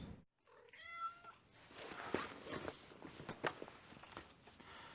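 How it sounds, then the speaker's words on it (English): A single short meow sounds close by near the start, followed by soft shuffling and light movement noises. "Here's my cat. She's decided that she wants to help."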